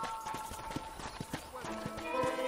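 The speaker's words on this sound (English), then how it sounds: "let's see if you can still ride a horse" Horse hooves clip-clopping in the Red Dead Redemption video game, a steady run of hoof strikes at a walking pace under game music and ambience, fairly quiet, with a voice speaking alongside.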